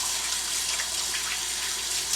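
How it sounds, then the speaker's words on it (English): Steady hiss of running tap water over hands at a kitchen sink, continuous and fairly close with no talking. "Wash my hands."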